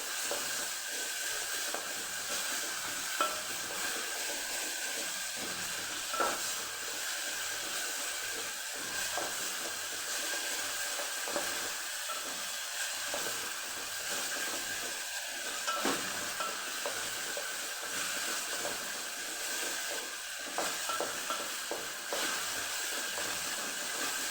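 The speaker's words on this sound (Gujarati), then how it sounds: "જે ટમેટા આપણે સુધારીને રાખેલા એ ઉમેરી દઈશું એને પણ સરસ આપણે સાતડી લેવાના સોફ્ટ થઈ જાય ને ત્યાં સુધી" Chopped tomatoes sauté in a pan with ginger-chili paste and green garlic for Kathiyawadi adad dal, giving a steady soft sizzle and hiss with intermittent stirring scrapes throughout.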